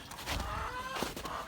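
Chickens clucking close by, a couple of short bursts of fowl calls over steady low background noise.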